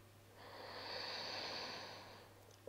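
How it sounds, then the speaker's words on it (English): One slow, deep breath is drawn in or let out during a calm meditation, a soft airy rush that swells and fades over about two seconds in a quiet room. "And exhale. Inhale. And exhale."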